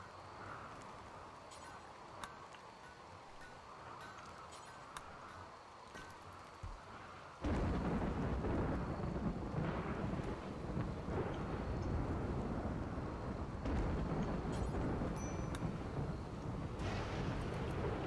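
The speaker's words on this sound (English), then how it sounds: "It's a really, really good thunderstorm." A loud thunderstorm with heavy rain, steady rainfall jumping to a dense roaring downpour with rumbling thunder partway through, continuing without talk.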